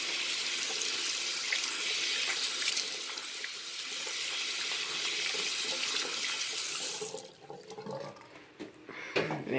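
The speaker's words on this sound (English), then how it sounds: "Wash your hands with soap. Rinse them very good." Tap water runs steadily and loudly into a sink as hands are washed and rinsed, a close continuous splashing rush that cuts off near the end, leaving drips and small handling sounds.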